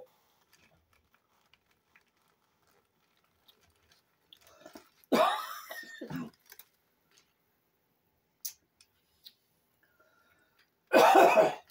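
A couple of rough, close coughing bursts separated by a long quiet stretch, with faint clicks and small noises in between.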